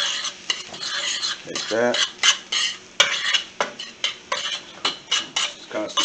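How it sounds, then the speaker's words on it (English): A metal spoon scrapes and clanks against a pot as rice with pigeon peas is stirred, rhythmic repeated strokes with a faint sizzle beneath, and a brief spoken remark partway through. "Just constantly stirring everything up."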